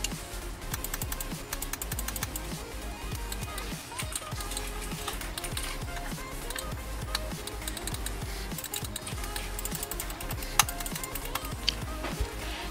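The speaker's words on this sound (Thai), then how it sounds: "เดี๋ยวเรามาลองฟังเสียงคลิกของ NM10 กันดูนะคะ" A NUBWO Lucien NM-10 gaming mouse is clicked rapidly, giving a dense, steady stream of sharp, close clicks that continues throughout.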